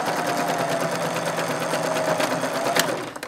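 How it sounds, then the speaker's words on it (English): A sewing machine runs steadily for a few seconds, stitching close to the edge of fabric to close a stuffed handmade monster plush, with a continuous motor whir. "And just stitch close to the edge of the fabric."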